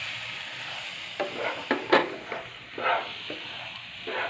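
A clam pickle with vinegar being stirred in a pan, with a soft steady sizzle underneath and a series of scraping, stirring strokes, close by and moderately quiet, with no talking.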